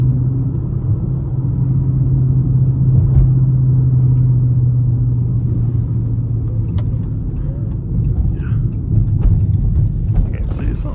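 Deep, steady engine rumble from a 392 Scat Pack car cruising at night, filling the whole stretch at a constant loud level, with people talking over it.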